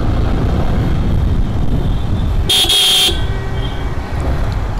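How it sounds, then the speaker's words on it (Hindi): A single short motorcycle horn honk sounds once, sharp and close, over the continuous rumble of the bike's engine and road noise. "हॉर्न अच्छे लग रहे हैं मेरे को इसके।"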